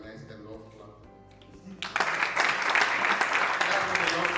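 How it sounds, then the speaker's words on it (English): A crowd at a leadership breakfast session bursts into loud, sustained applause and clapping after a stretch of talk and music, filling the room with dense, continuous noise. "Please let us organize the love clap."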